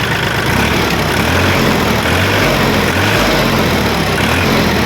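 A 1961 (B.E. 2561) used tractor at a Kalasin dealer runs at a steady idle, its low, loud engine rumble continuous and close, with a slight easing as the throttle is lowered.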